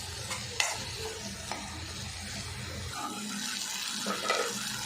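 A pan of tomatoes sizzles steadily as they are stirred, with a few clinks of a utensil against the pan and crackling frying throughout, no talk.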